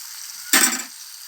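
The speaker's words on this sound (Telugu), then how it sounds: "ఇప్పుడు చిక్కుడుకాయలు వేసేస్తాను." Broad beans dropped into hot oil with dried fish, a sudden sharp sizzle bursting up from a low background hiss and easing off within half a second.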